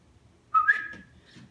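A person whistling in imitation of a cockatiel's return call: one short bright rising-and-falling whistle phrase, close and clear, fading after about a second over quiet background.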